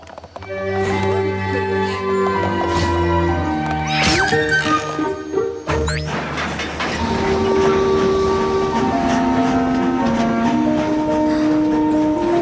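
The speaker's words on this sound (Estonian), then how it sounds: "Kõik pardale, rong ponilinna." An animated cartoon train pulls out on its way to Ponyville, loud and close, with a whistle, rumbling wheels and clickety-clack on the rails, plus a pony whinny mixed in.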